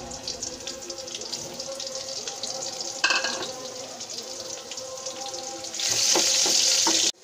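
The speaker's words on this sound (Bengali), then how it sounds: "তেলটা গরম হচ্ছে, দিয়ে দিব রসুন কুচি 1 টেবিল চামচ" Minced garlic dropped into hot oil, a steady close frying crackle with a sharp burst of sizzle at one point and a louder hissing rush near the end.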